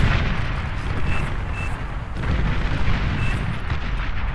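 A commander unit is destroyed in the strategy game Beyond All Reason amid heavy, rumbling explosions and booming artillery that roar loudly and continuously with little pause.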